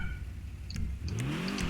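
The engine of a Dewbauchee Rapid GT Classic, an Aston Martin V8-style car in GTA Online, revs after a full engine upgrade, rising in pitch through a couple of rough revs at moderate loudness with small clicks.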